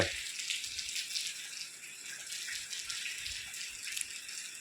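Floodwater runs after extremely heavy rain, a steady bright rushing wash with no pauses, heard fairly close and continuous throughout.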